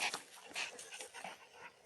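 A dog named Ame whimpers and huffs in short strained bursts as if trying to bark, close by and soft, with no clear bark coming out.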